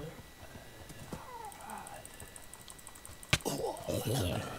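Horse hooves clip-clop while riding in a fantasy action video game, a steady galloping rhythm under game music, with a sharp hit and a horse whinny near the end.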